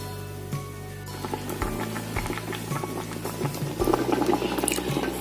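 Cameroonian smoked goat kondre stew liquid with red oil bubbling in a pot, a steady close patter of bursting bubbles with a low hum underneath, no talk.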